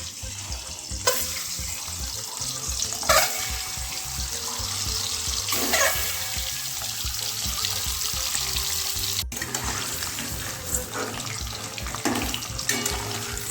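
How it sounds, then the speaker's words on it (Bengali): Eggs slide one by one into hot mustard oil in a kadai, giving a steady close sizzle broken by sharper spitting bursts as each egg goes in. "তেলটা গরম হয়ে গেছে একে একে ডিমগুলো দিয়ে দেবে"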